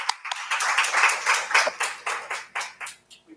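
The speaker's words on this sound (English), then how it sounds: "A round of applause, Katerina, virtually." A small audience at a conference claps after a presentation, sounding as a short burst of overlapping claps that thins into a few separate, distinct claps toward the end.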